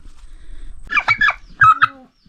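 Close clucking from a chicken in a village in Nagaland comes in two short, busy bursts against a quiet background.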